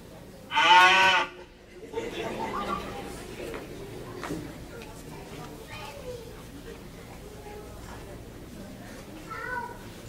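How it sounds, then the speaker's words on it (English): A cow moos loudly near the start, a long low harmonic call about a second long, followed by ongoing talk and background voices. "Here, little moo cow."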